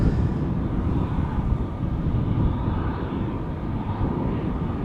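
Continuous low roar of a jet airliner departing Amsterdam Schiphol Airport, steady and fairly close, with no voices.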